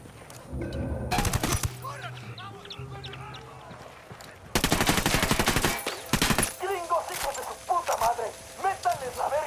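Gunfire in the video game Ghost Recon Wildlands: short bursts of automatic fire, then a longer, louder volley of rapid shots. Chickens cluck and squawk nearby, and voices talk between the bursts.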